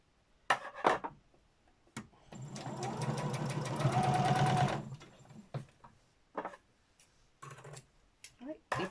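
A sewing machine stitches fabric scraps in one steady whirring run of a few seconds, close and fairly loud, with brief bits of talk before and after.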